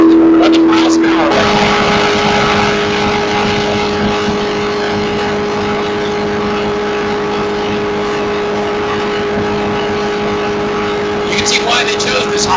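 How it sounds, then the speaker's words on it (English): A Corvette races at high speed down the long straights of the Battle Mountain desert highway, with a loud, sustained engine roar and a steady pitch held close throughout. "her Corvette goes blowing down the Battle Mountain Road"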